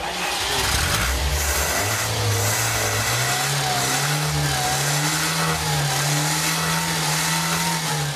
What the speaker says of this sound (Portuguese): a imagem de um carro com defeito, funcionando com defeito